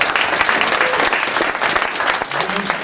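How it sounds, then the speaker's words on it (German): An audience applauds at a racing team presentation, a dense, loud burst of clapping that carries on steadily throughout. "Mit Applaus."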